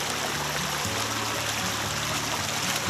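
Water trickling steadily through a Sawyer Mini filter at a Dartmoor wild camp, a continuous close, even flow with no voices.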